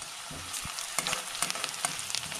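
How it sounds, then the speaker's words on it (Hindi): Onions sizzle and crackle in a hot pan after garlic, with scattered pops and scraping stirs over a steady frying hiss. "अब मैंने प्याज को फ्राई कर रहा हूँ।"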